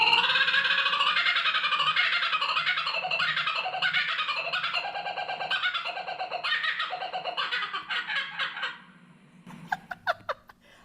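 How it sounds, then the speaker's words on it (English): A kookaburra gives its laughing call, a loud, rapid rolling cackle that rises in bursts and falls away, ending in a few scattered chuckles and clicks. "Do you know that a kookaburra has a laugh?"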